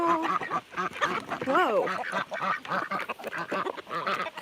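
Farm birds such as ducks and geese quacking and honking at a rural South Dakota farm in the morning, a busy overlapping chorus nearby, with a person's brief exclamation.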